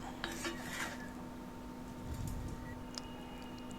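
Ragi semiya being stirred and mixed in a metal pan, giving faint scraping and light clinking of a utensil against the pan, close and unaccompanied by speech.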